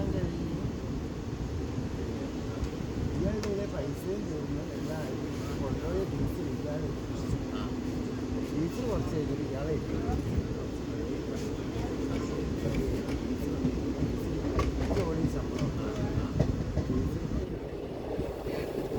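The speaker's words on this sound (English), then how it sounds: "We departed from Vadagara station after a scheduled halt at 1:28 p.m." 16606 Ernad Express running after departing Vadagara station, heard from on board as a steady, loud rumble and rattle of carriages with frequent clicks of wheels over track joints, continuing throughout.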